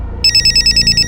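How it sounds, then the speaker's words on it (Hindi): A telephone rings with a rapid electronic trill of evenly spaced bell-like pulses, loud and close, starting abruptly after a brief low hum. "सुहेल, 4-5 बार फोन किया तुम्हें, फोन क्यों नहीं उठा रहे थे?"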